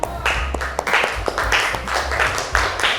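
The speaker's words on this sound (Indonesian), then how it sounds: "Tepuk tangan tuh Mbak Safa." A small group clapping hands in a classroom, a few uneven claps building into brief applause, close and moderately loud.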